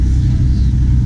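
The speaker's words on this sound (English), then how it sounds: "But another 675 LT is pulling in." A McLaren 675 LT supercar rolls in close by, a steady low engine rumble filling the brief moment.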